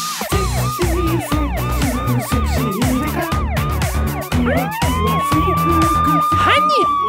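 A red siren wails in fast repeating up-and-down whoops, loud and close, holding a long rising tone near the end amid other busy sounds.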